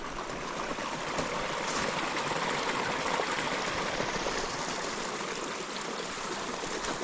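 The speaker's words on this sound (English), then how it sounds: "here's the 4th creek crossing" A small creek tributary in a snowy winter canyon hiking area near Fruit Heights, Utah, rushing steadily with constant broadband splashing and gurgling, close and loud, with no talk.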